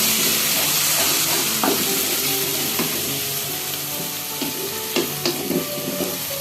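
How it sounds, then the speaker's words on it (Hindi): A paste of onion, garlic, ginger and chili sizzles steadily in a pan, with intermittent scraping and stirring clatters over the continuous frying hiss and no talk. "इसको ऐड करेंगे और इसको अच्छे से भूनेंगे ताकि इसकी प्याज, लहसुन और अदरक हमारा अच्छे से भून जाए"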